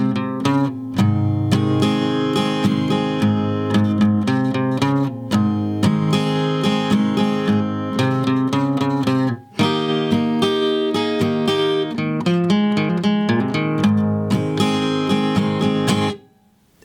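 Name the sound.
guitar playing the intro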